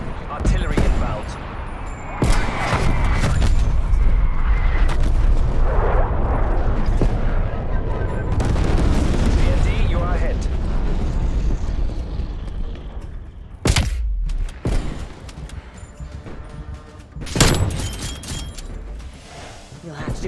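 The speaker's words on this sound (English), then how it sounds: "Artillery inbound." Artillery strike explosions from the game Call of Duty: Black Ops Cold War, a loud, dense stretch of booming blasts and rumbling debris with sharp, sudden bursts near the end, mixed with other battle noise.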